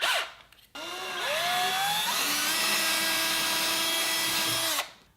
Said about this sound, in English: let the drill do the work, and now we have our pilot hole. So we'll step it up a couple sizes.